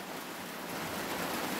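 Steady rain falling outdoors, a dense, even hiss of countless drops that holds constant and fairly loud throughout, with no voices.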